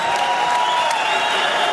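Steady applause from a crowd at a K-1 Scandinavia kickboxing event in Malmö, dense and loud clapping filling a hall without a break.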